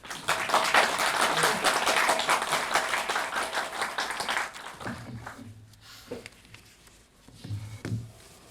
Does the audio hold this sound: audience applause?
yes